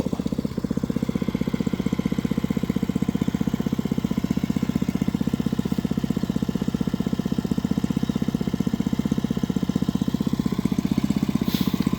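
An engine-driven water pump that pumps water onto bamboo shoots runs with a steady, rapid chugging putter, a constant mid-pitched motor drone heard close and alone.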